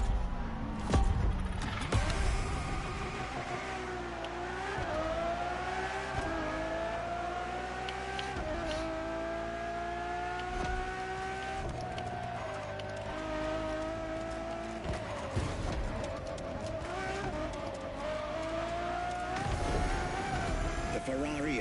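Ferrari Enzo supercar engine in the racing game The Crew Motorfest, set in Hawaii, droning and rising through gear changes with rising revs across a long stretch, a voice talking over it.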